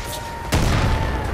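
A mortar shell bursts in Far Cry 5, a single sudden heavy boom that cuts in partway through and rolls on as a dull rumbling tail over the game's background ambience.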